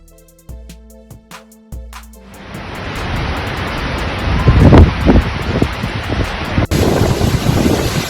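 A violent windstorm with heavy rain in Palotina, Brazil: strong wind roars with a rushing wash of rain-like noise, building from quieter moments into a loud, continuous storm sound.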